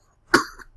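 A single short, sharp cough from an adult recovering from a cough, close and loud, with a throaty trailing rasp.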